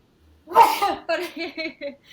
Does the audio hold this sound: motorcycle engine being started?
no